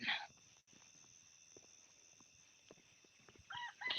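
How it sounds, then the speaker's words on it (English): A rooster crows near a chicken coop in a garden, with short, fairly close bursts at the start and end and a quiet, steady outdoor background between them. "Oh, that blasted rooster. Every time I walk past this coop, he just has to chime in."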